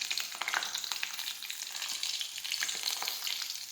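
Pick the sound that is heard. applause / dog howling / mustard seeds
mustard seeds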